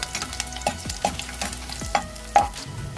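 Garlic sautés in a pan for chicken sisig, a low sizzle broken by several sharp scrapes and clicks of a utensil stirring against the pan, with no voices.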